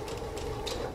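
Brief close mechanical whir and ratcheting of a sewing machine doing a short back stitch on a quarter-inch seam of a shift dress, steady and moderately quiet with no speech.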